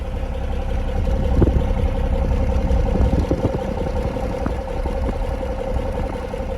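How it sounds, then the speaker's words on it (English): A 1979 Toyota Land Cruiser FJ40 idles steadily at its single rear exhaust, a low, even, rumbling engine note heard close up with no talking. "So I promised you listen to the engine at idle."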